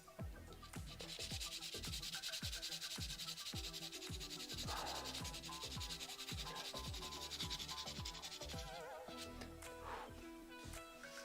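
Pencil being sharpened for a drawing, a quiet repeated scraping rhythm of short rasping strokes, close and continuous with no talking.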